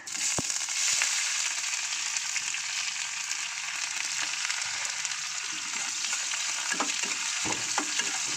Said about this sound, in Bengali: একটু দিয়ে দেব কুচানো পেঁয়াজ